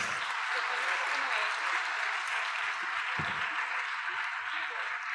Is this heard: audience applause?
yes